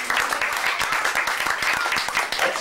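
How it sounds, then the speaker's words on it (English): Adults applaud at a New Year's gathering after a child's wild bowing, a dense, steady burst of many hands clapping close by that carries on for the whole stretch without a break. "This always makes grown-ups applaud right now."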